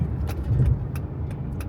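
A truck rolls past on a nearby road, a steady low rumble of traffic noise that holds for a moment without speech.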